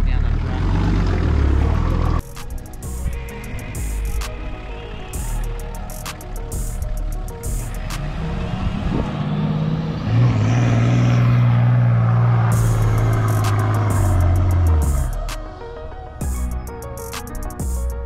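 A heavy 4WD car descends a steep sandy beach track near Robe and Beachport, its engine a deep, continuous rumble that swells into a louder, strained drone midway before easing off, with the vehicle close by throughout.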